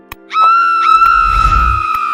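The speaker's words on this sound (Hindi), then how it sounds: "राधिका की चीख गूंजी" A woman in a Hindi horror story lets out a long, loud, sustained scream as a room bursts into flames, with a low rumble building beneath it.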